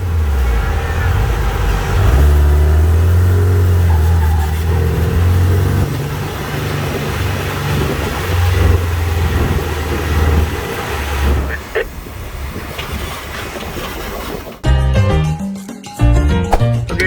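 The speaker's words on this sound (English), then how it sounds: "a bunch of apparently road legal, non-license plated off-road specific vehicles driving past restaurant patios" Non-plated off-road vehicles roll past restaurant patios in a town, their engines droning and revving at mid distance one after another, with a short burst of louder noise near the end.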